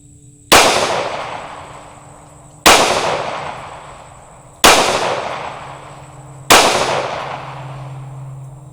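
Four sharp pistol shots from an Echelon 4.0C non-comp handgun, evenly spaced about two seconds apart, each loud crack trailing off in a ringing decay, with no talking.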